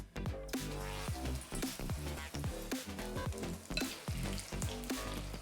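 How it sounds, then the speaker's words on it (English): Buttermilk-battered chicken fries in hot oil, a loud, close, continuous sizzle with crackling bursts and occasional stirring, no voices. "let's get frying"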